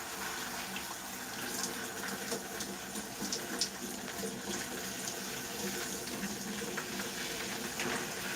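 Water running steadily from a tap to wet curly hair during washing, a continuous close splashing hiss that stays even throughout with no talking.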